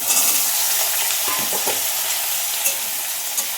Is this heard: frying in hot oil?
yes